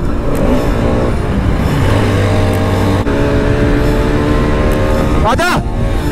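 A vehicle does a burnout, its engine revving hard and continuously with tire spin, loud and close, while people talk over it.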